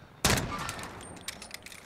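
A Desert Eagle pistol fires in the Call of Duty Warzone video game, opening with one loud, close blast followed by a few smaller sharp reports and game effects.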